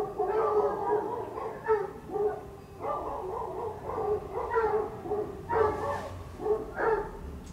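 Neighbourhood dogs bark in repeated bursts of yips and woofs, one closely after another, at moderate distance outdoors. No one speaks over them.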